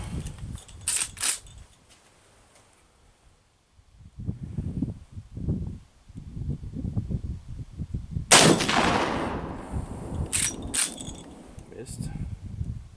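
Gunshots from a .44 Magnum mare leg rifle fire outdoors. Two sharp, loud blasts about seven seconds apart, the second followed by a long decaying echo, with quieter rustling and handling noise between them.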